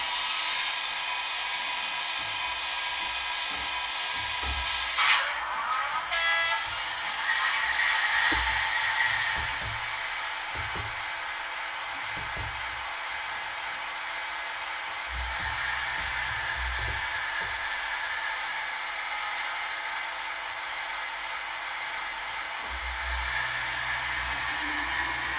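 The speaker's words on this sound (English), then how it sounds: "I think this is possibly my loudest loco, so apologies if you can't hear me over it." A model diesel locomotive, class 56, running at the Wardle Road Depot layout, giving a loud steady hissing, whirring drone with occasional clicks and low thumps, heard alone and continuous.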